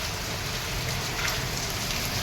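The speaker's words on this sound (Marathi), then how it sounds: "मस्त पाऊस पडतो आहे छान पाऊस पडतो आहे" Heavy monsoon rain pours down in Mumbai as a dense, steady hiss with no pauses.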